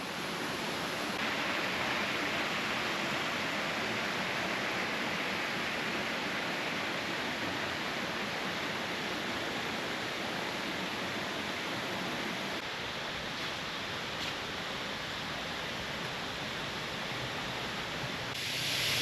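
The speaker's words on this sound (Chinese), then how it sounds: "没想到今天在泰興飛瀑布道看到最大的瀑布是這一座。" Steady, full roar of a large waterfall on the Taixing trail in Meishan, Chiayi, a dense unbroken rush of falling water that stays loud and constant throughout with no voices.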